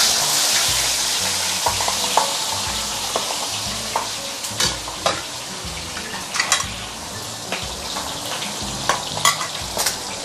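Fish frying in hot, lightly smoking oil, a dense continuous sizzle and crackle with sharp spits and pops scattered throughout, loud and close.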